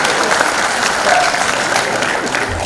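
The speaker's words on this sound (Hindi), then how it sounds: "उनके बालों के लिए तालियां।" Steady applause from a crowd at the IFFI 2018 film festival, dense clapping that holds throughout without a break.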